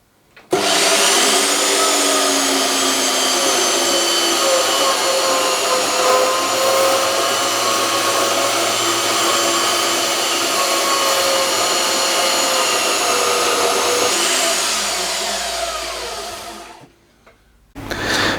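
An Aldi portable metal-cutting bandsaw, set to its lowest speed, runs through metal with a loud, steady whine and grinding drone that lasts about sixteen seconds before cutting out, with no talk.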